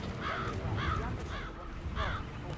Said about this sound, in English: It's the birds. They're making a racket.